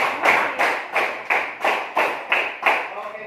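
Students in a classroom clap together in a steady rhythm, eight sharp, fairly loud claps in even succession with no talking between them.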